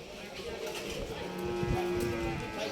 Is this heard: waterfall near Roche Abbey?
no